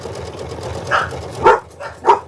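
Three or four short dog barks ring out nearby in quick succession, fairly loud over a quiet indoor room with a faint background hum.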